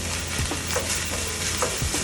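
Curry paste mixture bubbling and sizzling in a pan for Thai curry basil fried rice, a steady close hiss with faint stirring scrapes, no voices.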